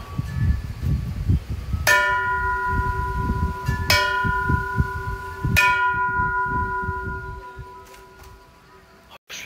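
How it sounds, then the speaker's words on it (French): Temple bells in Thailand are struck one after another, three bright metallic strikes ringing out and decaying over a busy background of murmuring voices and footsteps. "Il faut frapper toutes les cloches et faire un vœu"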